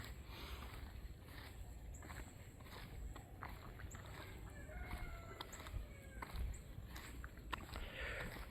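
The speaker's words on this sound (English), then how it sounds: "Yep, that's a rooster." A rooster crows at a distance near a swamp, its call faint and thin against steady outdoor background noise and light rustling, with a few short harmonic calls rising and falling.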